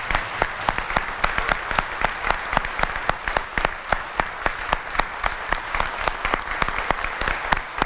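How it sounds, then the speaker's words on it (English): Sustained applause from an audience at a medical school white coat ceremony, honoring the incoming class of 2017, with steady dense clapping throughout and no talk over it. "Give you a big round of applause."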